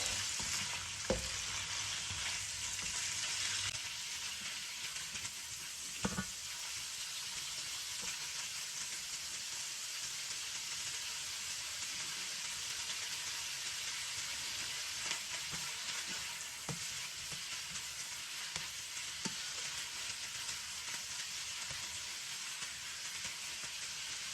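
Squid fries in a wok of vegetables while being stirred, giving a continuous loud sizzle with occasional clicks and scrapes of the utensil, close and without talk for over twenty seconds.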